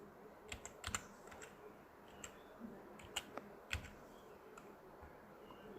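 A computer keyboard is tapped quietly to enter a password during an Ubuntu 19 install. Sparse, irregular keystrokes click over low room noise, with a few sharper presses standing out.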